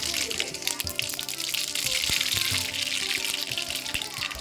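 Mustard seeds spluttering in about 100 grams of hot oil in a kadai for coconut rice, a steady crackling hiss dotted with scattered sharp pops, close and continuous throughout.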